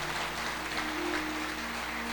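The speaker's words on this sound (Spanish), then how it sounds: "Dele un aplauso a Dios." A church congregation at a Spanish-language service applauds, a faint, steady wash of clapping over a low electrical hum that lasts the whole couple of seconds.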